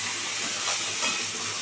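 A chitol fish head fries in hot oil in a pan, giving off a steady close hiss and sizzle that continues without a break and without talk.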